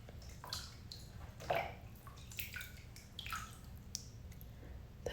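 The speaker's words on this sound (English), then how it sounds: "I'm taking me a nice cute bath, so if you hear little cute water sounds," Someone shifts around in a bathtub, making soft close splashes, drips and gurgling water movements in scattered bursts, quiet and without speech.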